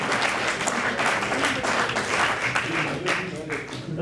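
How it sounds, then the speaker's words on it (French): Audience applause for contestants at a civil engineering challenge event: a loud, sustained wash of crowd clapping with voices and cheering mixed underneath throughout. "Une bonne belle applaudissement, oui."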